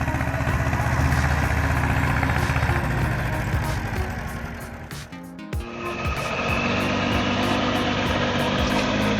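A heavy-duty logging truck hauling long logs on a rough forest road: a loud, steady low engine rumble with vibration throughout, briefly dipping midway before resuming strongly, no talk.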